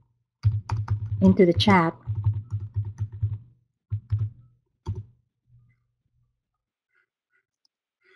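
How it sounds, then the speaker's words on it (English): A computer keyboard is typed on in quick close bursts of clicks while a URL is entered, with brief pauses and a few final isolated taps; a person speaks briefly over the typing. "I'm just going to type the URL"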